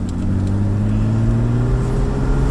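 A 1985 BMW 635CSI pulls smoothly in second gear, its engine a steady, close, even drone that holds loud and unbroken with no shifts or stumbles.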